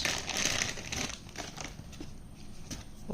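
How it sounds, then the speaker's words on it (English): Crinkling plastic packaging as a BM-800 condenser microphone is unwrapped, a steady close rustle and crackle running throughout with no speech. "Wow, I'm gonna unwrap it."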